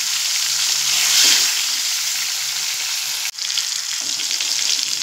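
Salted, turmeric-coated mango pieces stir-fried in hot oil, a loud close hissing sizzle that holds steady, briefly dips, then resumes, with faint stirring underneath.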